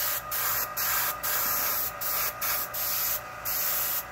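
An airbrush sprays shellac onto wood in short hissing bursts, about seven spurts separated by brief pauses, close and steady.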